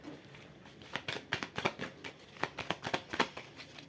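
Oracle and astrology cards are shuffled by hand in a quiet room: a steady run of crisp, close riffling flicks and slaps, with no voice over them.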